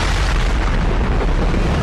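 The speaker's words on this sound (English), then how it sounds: "every time one of those mechs blows up, it's like an atomic bomb went off" A mech blowing up in the video game Mass Effect 2, a loud, sustained booming explosion with a dense rumbling roar that fills the whole moment without letting up.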